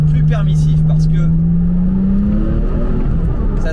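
Porsche 996 RTS3 engine accelerating hard, a loud close rising drone climbing steadily in pitch, with a voice speaking over it.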